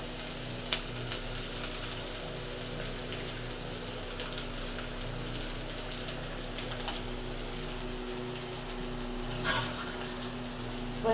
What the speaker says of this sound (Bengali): এটাকে ভালো করে নাড়তে থাকবো।